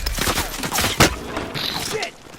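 A burst of gunfire in the Call of Duty Warzone battle royale, with a sharp loud shot near the middle of a dense, continuous clatter of combat noise and faint voices.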